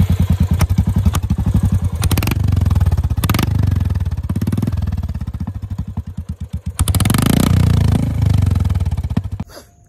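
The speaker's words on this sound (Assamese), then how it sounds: "ইয়া সাউন্ডটো শুনাই দেছোন অলপমান বাইকৰ সাউন্ডটো" A Royal Enfield Hunter 350 motorcycle with its silencer removed barks and pops close by, its single-cylinder exhaust thumping in rapid pulses that rise into loud revving bursts and fall back to a lumpy idle before cutting out.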